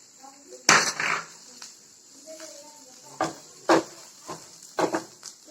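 Masala is stirred in a pan in a kids' kitchen. A spoon clanks and scrapes against the metal in irregular close knocks, with quiet gaps between the strokes.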